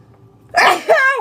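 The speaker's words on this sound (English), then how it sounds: "Oh, it's so good to sneeze." A single loud, close sneeze bursts out of near silence, followed immediately by a short voiced exhale trailing off.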